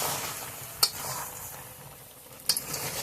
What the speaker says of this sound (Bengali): ভাজা মশলাটা দিয়ে আরো কিছু সময় কষিয়ে নেব।